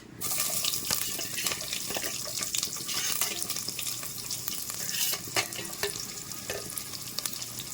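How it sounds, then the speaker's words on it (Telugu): Thinly sliced onions are stirred into vegetable pulao in a pot over a busy, steady sizzle. A metal spoon gives repeated scrapes and knocks close by, and no one speaks. "ఇప్పుడైతే మనం ఆనియన్స్ అయితే సన్నగా తరగబెట్టినాం ఇందులో మిక్స్ చేసుకోవాలి"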